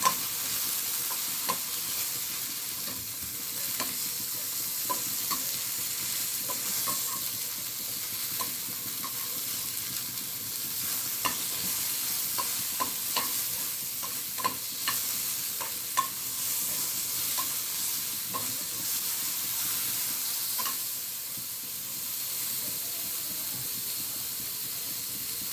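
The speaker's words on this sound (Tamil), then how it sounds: "அதே மாதிரி தக்காளி 3 போட்டிருக்கேன் நான். சும்மா லைட்டாக வதங்கினா போதும்." Onions and tomatoes sauté in a pan for a hotel-style green chilli chicken, giving a continuous hissing sizzle with frequent light scrapes and taps of a stirring spoon.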